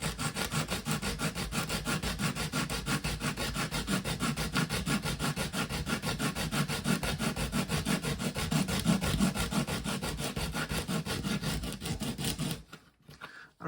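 The steel gear selector fork from a Makita DTD152 impact driver is rubbed back and forth on sandpaper, making a continuous, close, rapid scratchy rasping that runs steadily for about twelve seconds and then stops abruptly.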